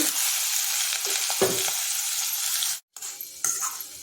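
Corn and red capsicum tipped into hot butter and oil, for a Mexican quesadilla, fry with a loud, steady hiss and crackle, broken by a brief sharp cut before the sizzle resumes.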